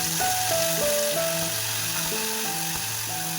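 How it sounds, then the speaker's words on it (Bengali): Chilli pakoras dipped in gram-flour batter fry in hot oil with a steady, bright sizzle, while soft music with repeating melodic notes plays underneath. "পকোড়াগুলো আমি ভেজে ভেজে তুলব"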